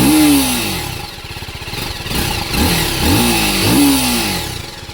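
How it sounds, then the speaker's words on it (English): A motorcycle engine idles loudly nearby, then is revved in several quick rising bursts, the exhaust note deep, throaty and bassy. "let's hear the exhaust sound"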